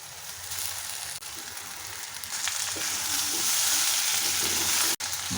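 Spices, chutney and green chili sauté in a hot pan for masala okra (bhindi), giving a continuous close sizzle that swells louder toward the end, with a brief dip near the finish.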